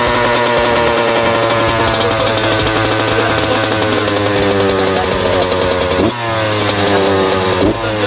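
A motorcycle engine revs loudly and continuously, with a brief dip in the roar partway through before it climbs again.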